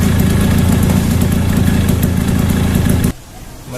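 Two-stroke engine idling right after a kick start, a loud close rattling putter held steady for about three seconds before abruptly dropping away.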